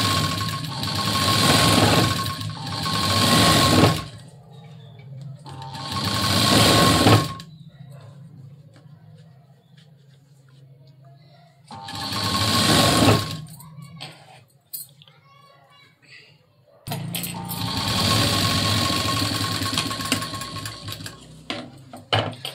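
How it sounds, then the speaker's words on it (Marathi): A domestic sewing machine stitches a blouse sleeve along the border edge in a few loud, steady bursts of several seconds each, with quieter pauses between runs. "पहा अगदी मी काटावरती इथं शिलाई घेणार आहे।"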